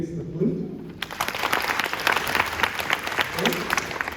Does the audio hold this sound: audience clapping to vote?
yes